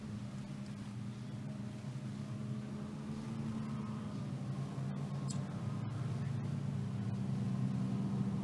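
Racing boat motors at a Grand Nationals boat race, a distant sustained engine drone that builds slightly louder over several seconds, steady and continuous.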